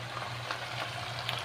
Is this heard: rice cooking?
yes